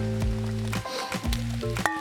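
Two diced bell peppers hit a pan with garlic, a soft sizzle running under louder tonal background music that repeatedly swells over it.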